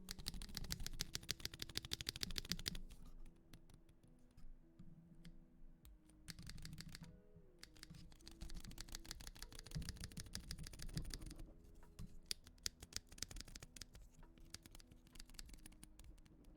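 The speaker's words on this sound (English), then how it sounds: "Sounds like a keyboard." Mechanical keyboard typing on an Ikki68 Aurora build with lubed switches, a steady patter of clacky keystrokes in close-up: dense fast bursts at first, then sparser irregular presses with a faint background hum.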